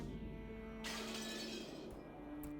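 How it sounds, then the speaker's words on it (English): A teacup knocked off a table smashes on the floor in a visual novel video game: one sharp, loud ceramic shatter that bursts suddenly, rings out for about a second, then fades over a steady background hum. "A teacup on the table smashed on the floor, making a violent sound."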